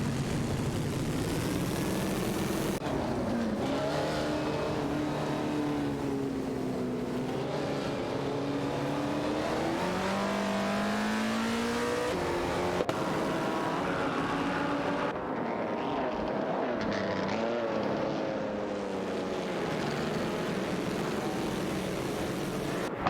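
In a video game race, a Maserati 8CTF and an Auto Union Type D drone loudly and continuously alongside other cars, their engine pitches rising and falling with gear changes and passes.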